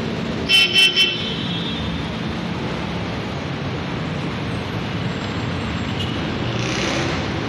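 Rush hour traffic on Marcos Highway in Pasig City makes a steady, dense roar of road noise, with a quick run of car horn toots early on and no voices.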